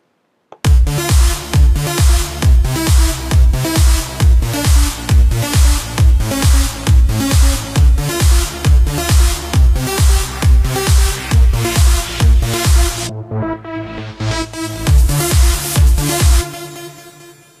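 Layered Sylenth1 synths playing a lead, a loud pulsing pattern of bright, rhythmic notes over a heavy low end, steady beat throughout before the texture shifts near the end and fades.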